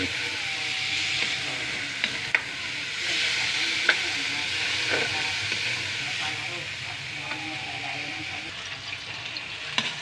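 Milkfish sarciado with tomatoes fries in a pan, giving a steady hissing sizzle with a few sharp clicks and scrapes from stirring, fairly soft and close.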